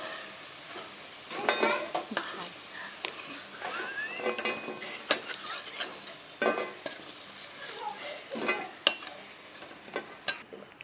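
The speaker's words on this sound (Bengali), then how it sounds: "তো সোয়াবিনগুলো ভেজে নিচ্ছি।" Soybeans frying in hot oil in a pan, a continuous sizzle broken by frequent sharp clinks and scrapes of a spoon stirring against the metal, close up with no talking.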